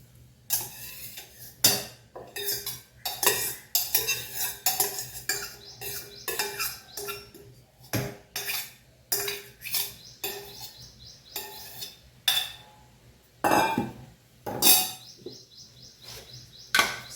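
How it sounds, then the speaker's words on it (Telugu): Coconut and chillies ground in a stone mortar, heard as repeated irregular pounding and grinding strikes with gaps between, while birds chirp in the background. "ఫస్ట్ ఈ కొబ్బరి మనం గ్రైండ్ చేసుకుందాము"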